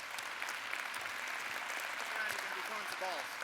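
Applause from a luncheon audience at a scout award event, a steady wash of clapping at moderate distance with some voices and faint chatter mixed in.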